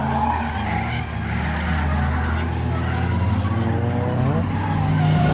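A car drifts in hot mid-July weather with loud, continuous tire squeal and skidding under a steady engine roar, holding at a high level for the whole stretch.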